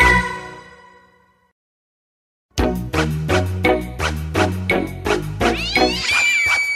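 Tomcat meowing within a Czech children's song: repeated bright, wavering meows over a steady bouncing musical accompaniment, loud and near, following a fading sustained chord and a short silence.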